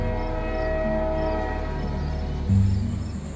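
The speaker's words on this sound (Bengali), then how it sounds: "আর প্রায় সেই মুহূর্তেই ট্রেনের আওয়াজটা" A train rumbles steadily as it arrives, then a loud horn blast sounds near the end over the rolling wagons. No voices.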